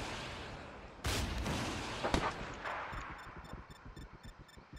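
Rocket launch from an aircraft at KA-50 helicopters in the military game ArmA 3, a sudden loud whooshing blast followed by a second sharp crack, then a fading roar and rotor chop.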